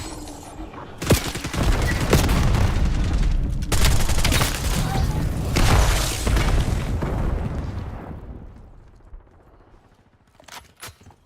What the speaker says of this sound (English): Sending C4 charge.